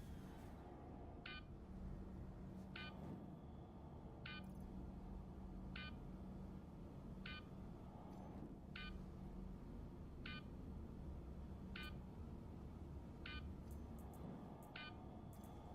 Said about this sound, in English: That beeping is driving me freaking crazy.